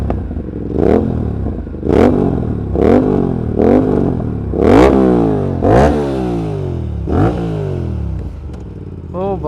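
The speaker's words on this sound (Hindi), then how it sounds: "एक 270 डिग्री क्रैंकशाफ्ट की आवाज़ सुनो एक बार" An Aprilia RS 457's parallel-twin engine with a 270-degree crankshaft is revved in about eight sharp throttle blips, each rising and falling back to a lumpy idle. It sounds loud and close.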